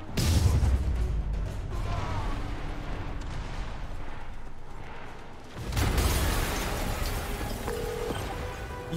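A loud, rumbling explosion in the video game Spider-Man Remastered, with a burst of crackling debris, followed by a second heavy blast and lingering rumble.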